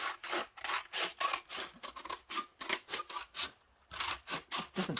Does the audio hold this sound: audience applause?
no